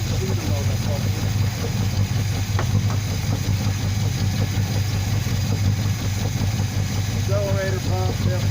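A G-Body Oldsmobile Cutlass Supreme engine idles steadily after a radiator reinstall, a constant low rumble throughout with faint voices in the background and the accelerator pump leaking.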